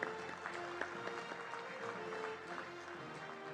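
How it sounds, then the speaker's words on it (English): A crowd claps steadily at the 51st Gems & Jewellery Awards ceremony, a sustained wash of applause at moderate distance with music faintly underneath. "let's give everybody a huge round of applause"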